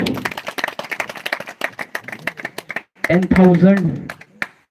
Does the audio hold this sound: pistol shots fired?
no